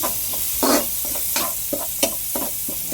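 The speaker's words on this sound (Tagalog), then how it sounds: "Kunti na lang, mag-golden brown ng ating bawang sa sibuyas." Garlic and onion sizzle in a pan as they turn golden brown for garlic butter shrimp. A constant crackle is broken by several sharp spatula stir strokes at uneven intervals, close and clear, with no voices.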